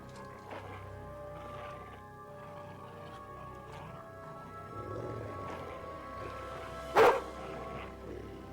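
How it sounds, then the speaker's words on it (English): A dog barks once in the game Kingdom Come Deliverance II, a single loud, sharp bark standing out over a steady ambient game soundscape with background music and low rumble. "Your dog's name is Mutt, and if you take good care of him, he'll obey you while you are hunting, tracking, even in combat."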